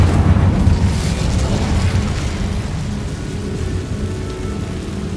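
In the Hogwarts Legacy video game, the Incendio fire spell goes off as a loud, roaring burst of flame that swells at once and then slowly dies away into a low, rumbling crackle.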